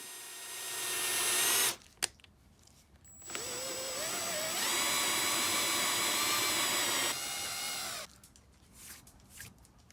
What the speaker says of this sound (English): I'm using a 3/4 inch Forstner bit here to get a nice clean hole